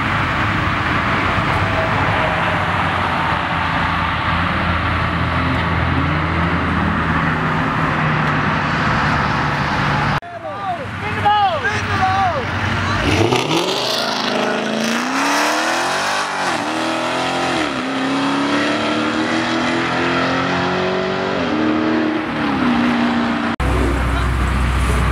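A Skyline sedan accelerates away from a car meet: a constant loud engine drone, then a close roaring pass with rising and falling engine pitch as it pulls off, with background crowd noise.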